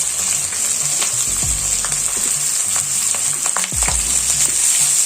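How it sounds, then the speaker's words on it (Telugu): Onions and green chillies frying in a pan give off a steady, close sizzle, broken by a few low knocks and scrapes as they are stirred, with no talking. "ఇప్పుడు ఉల్లిపాయ పచ్చిమిరపకాయ వేసేస్తాం."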